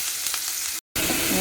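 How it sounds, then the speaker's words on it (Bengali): Potatoes sizzle steadily in hot oil with a cumin seed tempering, a close, continuous crackling fry broken by one brief gap. "সেখানে একটু জিরে ফোড়ন দিয়ে আলুটা ভেজে নিচ্ছি"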